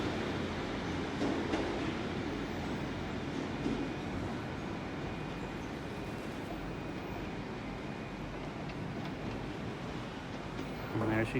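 A train pulls out of Exeter St Davids station, a steady broad rumble with a faint high whine, moderately distant, holding evenly throughout.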